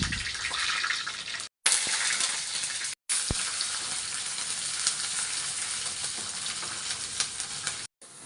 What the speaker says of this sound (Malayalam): കടുകുട്ടി, മുളകിട്ടു, കറിവേപ്പില ഇട്ടു.